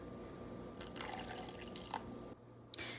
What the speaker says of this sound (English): So to adjust this consistency, I'm adding about 1/4 cup of cold water.